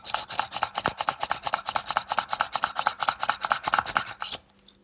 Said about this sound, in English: I'm just going to use an automatic push drill for this.